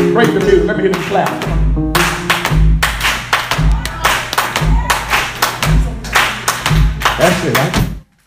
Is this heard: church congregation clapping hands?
yes